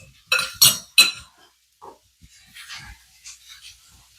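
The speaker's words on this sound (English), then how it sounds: "Just gonna grab a spoon" Three sharp metallic clinks of a spoon against dishes come close together at the start while a salad is being made, followed by a few softer scrapes and light kitchen handling noises.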